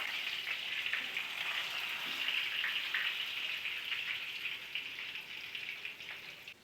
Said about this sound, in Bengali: বেগুনগুলোকে ভাজতে দিয়ে দিলাম